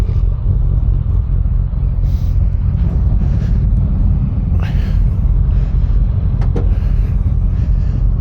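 Loud, steady low rumble of a 2024 Harley-Davidson CVO ST motorcycle engine while riding, droning continuously throughout with a few brief higher swells as it revs, with wind and road noise mixed in.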